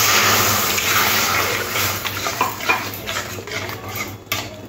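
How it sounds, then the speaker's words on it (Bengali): Water pours into a pan holding fish roe mixed with a spice paste, a rushing, splashing stream that starts strong and fades into lighter trickles and stirring clinks. "এবারে জল দিয়ে দেব।"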